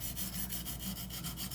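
A Spyderco Endura knife with a K390 steel blade is stroked across a sharpening stone, giving a close, continuous gritty rubbing with a steady back-and-forth pulse and no voices.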